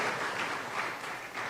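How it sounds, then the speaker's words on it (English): Steady applause from an audience at a live public-service event, honouring permanent secretaries and public officers; a continuous, fairly quiet wash of clapping with gentle swells, heard alone for a short stretch. "can we give a round of applause to the permanent secretaries and other officers of the public"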